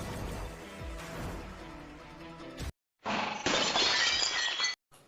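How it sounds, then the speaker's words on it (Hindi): A loud, sharp crash of something breaking into pieces, with a bright burst of shattering fragments after a brief silence. "ये वास तो मुझसे गिर के टूट गया।"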